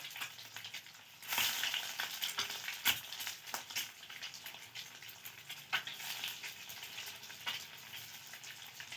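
Eggs sizzle in a pan of white oil, their yolks crisping, giving a soft, steady frying hiss with sharper crackling bursts and spits, heard alone without any talk.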